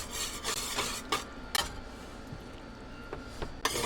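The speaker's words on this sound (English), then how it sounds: "And whisk it in." A whisk scrapes and rasps through a pot of beef stew as flour is mixed in, giving repeated irregular strokes with occasional metallic clicks against the pot, close and fairly quiet.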